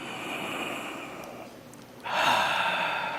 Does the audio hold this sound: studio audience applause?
no